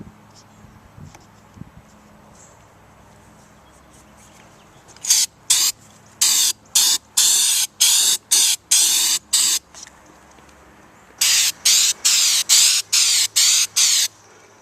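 Aerosol can spraying white flexible rubber Leak Seal coating onto a 1978 Dodge RV, a series of loud short hissing bursts in two runs, with faint voice underneath before the spraying starts.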